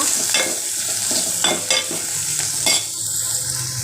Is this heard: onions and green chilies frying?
yes